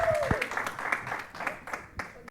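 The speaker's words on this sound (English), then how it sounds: "Y'all give her another hand clap." Brief applause at a literary expo podcast event, a scattering of claps with a voice over the start, moderately loud and short.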